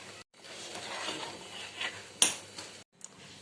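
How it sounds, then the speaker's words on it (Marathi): A utensil stirs dal in a metal pot, giving soft scraping and a sharp clink partway through, quiet and close with brief pauses. "आता मस्त मिक्स करून घेऊया"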